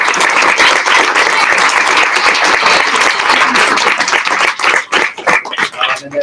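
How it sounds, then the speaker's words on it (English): Applause from a school spelling bee audience fills the room, a steady wash of many hands clapping that stays loud for several seconds before thinning into scattered claps at the end. "let's give them one more round of applause"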